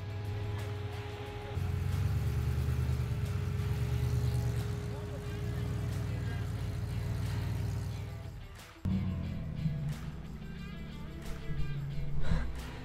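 A Jeep LJ engine rumbles steadily while off-roading on Sand Hollow sand dunes in Utah, a continuous low drone that shifts after a brief drop, with wind and motion noise throughout.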